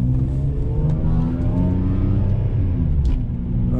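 A BMW M3 engine hums steadily while the car is driven on the road warming up, with a smooth low rumble and harmonic drone held at moderate revs, close and continuous.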